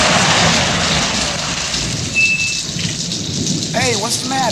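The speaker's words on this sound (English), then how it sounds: "I'm afraid all alone out here in the storm. Yeah, it is raining pretty hard." A heavy rain and thunderstorm sound effect: a loud, continuous downpour with rolling thunder rumbling underneath, and a brief voice near the end.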